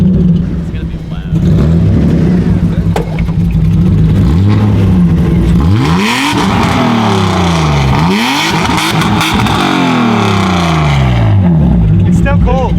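A BMW E36 engine, cold and loud, revs hard in repeated rising and falling sweeps over a rough idle, close by, with people talking over it.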